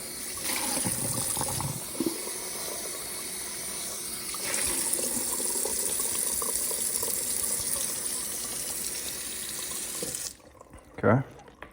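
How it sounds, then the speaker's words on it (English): Tap water gushes steadily into a bowl to rewash vegetables for stock, a loud continuous splashing stream that stops near the end, followed by a brief clunk. "So the bowl fill up with water."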